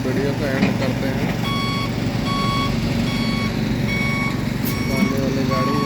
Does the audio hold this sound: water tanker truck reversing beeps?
yes